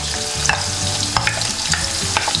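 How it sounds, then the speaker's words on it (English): Sliced onions hit five to six tablespoons of hot cooking oil and sizzle steadily up close, with a spoon scraping and stirring the pan in quick, irregular strokes. "I've used 5 to 6 tablespoons of oil here, cooking oil, and now we're going to add the onions to it"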